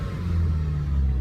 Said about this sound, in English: I just started the car